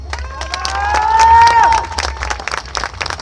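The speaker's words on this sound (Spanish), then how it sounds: "Les pido un aplauso para la Asociación de Charros Fiacro Bustamante, que hoy nos visita por primera vez" A crowd cheers and claps for a visiting charro association at a Mexican charrería event, with a steady roar of voices swelling through the middle and easing off, broken by scattered whistles and a loud drawn-out shout.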